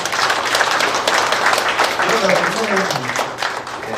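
Steady church gathering applause fills the whole stretch, a dense continuous patter of many hands clapping at moderate loudness.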